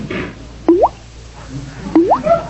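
Two separate drips of a leaky faucet, a sound effect from a 1945 radio comedy, each a crisp rising plop about a second apart, up close over faint background hiss.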